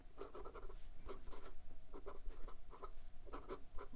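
Sailor King of Pen Pro Gear fountain pen with a 21 karat gold size 9 medium nib writing on paper: a steady, close scratchy patter of quick nib strokes, with short pauses between word groups.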